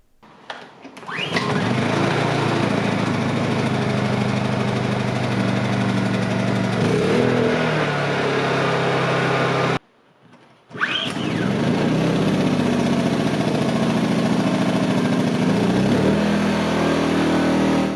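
A Honda portable generator is pull-started and settles into a loud, steady running drone. After a brief silence, a Predator 2000 generator fires up and runs just as loudly.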